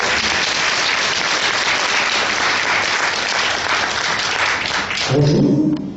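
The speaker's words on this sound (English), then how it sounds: "let's give him a big round of applause" Audience at a leadership training event claps steadily in a dense, even wash of applause that runs several seconds, then a voice begins speaking at the end.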